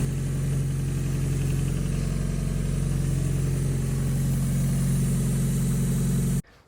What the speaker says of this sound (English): We're gonna try to start the car real quick.